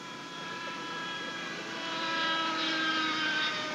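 A vintage AT6 trainer aircraft engine drones steadily during aerobatic rolls at a California airshow, a distant, continuous roar that swells slightly louder toward the end.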